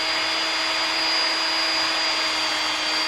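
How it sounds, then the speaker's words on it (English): A steady high-pitched drill whine, drilling 1/16-inch pilot holes in wood, runs continuously at an even level, loud and close, with no pauses. "So I'm just going to drill some pilot holes, in this case about 1/16 of an inch."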